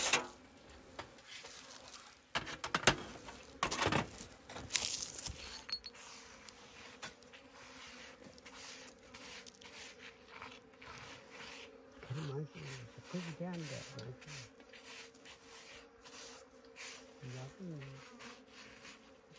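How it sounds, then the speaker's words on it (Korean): Bees buzz inside an old hive kept by a 93-year-old beekeeper in a bark-roofed mountain house after winter, a steady close drone with rubbing and scraping noises and occasional louder buzzing passes. "안에 벌이 있습니까?"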